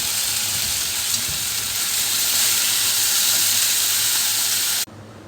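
Shredded mushrooms sauté in a hot pan with a continuous loud sizzle and steamy hiss that cuts off abruptly near the end.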